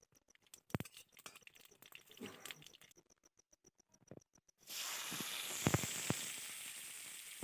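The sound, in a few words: dry red chillies and mustard seeds sizzling in hot oil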